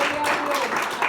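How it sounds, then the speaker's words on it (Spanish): Church congregation applauding during a Spanish-language sermon, a steady dense wash of clapping that fills the whole moment at moderate loudness, with faint tones of music underneath. "Dale un aplauso a Dios."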